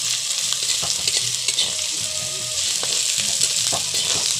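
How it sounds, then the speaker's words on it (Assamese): Garlic and ginger stir-fry in oil at the start of a chicken curry, producing a loud, continuous close-up sizzle with soft, irregular stirring scrapes beneath it. "নহৰু আদা দুইটা মিক্স কৰি দিয়া হ'ল। এতিয়া অলপ লৰাই দিছোঁ।"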